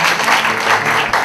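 An audience at a youth acting competition breaks into loud, dense applause, a continuous wash of clapping that holds steady from start to finish.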